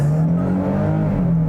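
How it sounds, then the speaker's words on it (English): A 2022 Nissan Frontier SV pickup with a 310-horsepower engine accelerates hard, its loud, close engine roar rising steadily through the whole stretch with no voices over it. "Wasn't expecting it to take off so abruptly."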